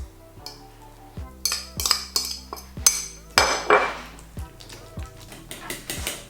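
A fork presses and mashes softened butter in a bowl, giving a run of close, sharp metallic clinks and taps against the bowl, roughly two per second, with no one speaking.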